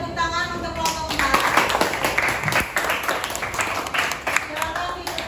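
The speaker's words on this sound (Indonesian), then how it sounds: "Silakan berikan tepuk tangan untuk kelompok 4." Classroom applause for group 4 during a teaching practice lesson: a burst of many hands clapping at close range, steady and fairly loud for several seconds, with voices and chatter mixed underneath.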